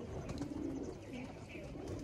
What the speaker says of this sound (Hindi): अच्छा नस्ल कबूतर है ये वाला